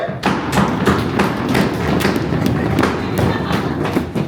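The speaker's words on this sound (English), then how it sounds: "please stomp your feet or bang upon the furniture" A crowd at the Boston Tea Party Museum stomps its feet and bangs on furniture in a dense, continuous rumble of overlapping thuds and knocks, loud and close throughout.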